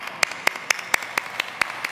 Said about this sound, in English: Please welcome with an applause